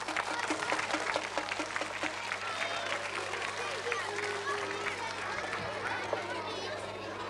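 Applause at a 1986 primary school party in Oirsbeek, a dense patter of many hands clapping together, goes on steadily throughout. Crowd chatter and children's voices mix in.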